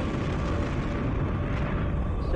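A support module blowing up in the space strategy game Homeworld: Cataclysm, a dense, continuous rumbling blast that fills the whole moment at steady loudness with no voices over it.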